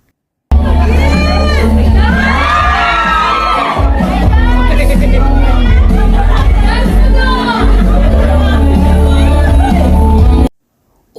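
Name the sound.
fans screaming and cheering for Paolo Avelino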